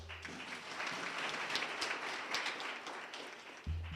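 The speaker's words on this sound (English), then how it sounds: "A round of applause once more." An audience at an employment creation conference opening ceremony gives a steady, moderately distant round of applause that fills the whole moment, with a brief voice near the end.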